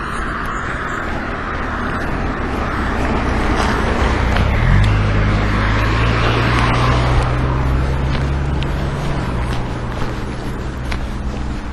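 Cars pass on a busy road at roughly ten per minute, one rushing close by in a swelling whoosh of tyres and engine over gusty wind noise that buffets the microphone.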